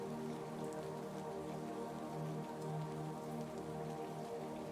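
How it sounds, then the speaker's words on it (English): Steady rain falling on a surface in a forest by a lake, a dense, even patter that stays soft and constant throughout with no voices. "the sounds of the forest and the rain blending into a harmonious symphony"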